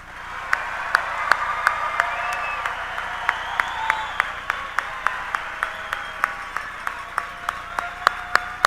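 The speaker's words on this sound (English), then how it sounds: "Audience, please give our entire class of 2025 one more round of applause." An audience at a Harrisburg 2025 graduation applauds the graduating class, steady sustained clapping with a few sharp louder claps standing out, moderately near and continuing throughout.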